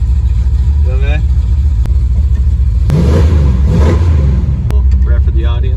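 A 1971 Dodge Charger Super Bee muscle car's V8 rumbles loudly and steadily throughout, with a surge of revving in the middle while people talk over it.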